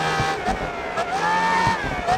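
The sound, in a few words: high-pitched race car engine whine in video game GRID Autosport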